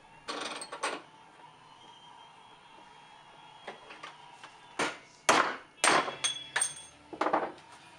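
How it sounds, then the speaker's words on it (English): Metal hammer blows knock a washer off a suspension bushing clamped in a vise during a BMW E30 rear trailing arm bushing job: sharp, irregular strikes, sparse at first, then a dense cluster of ringing hits, close and fairly loud. "hit that washer off the bushing"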